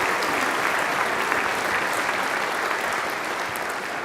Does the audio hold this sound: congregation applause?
yes